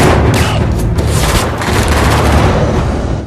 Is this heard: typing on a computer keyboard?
no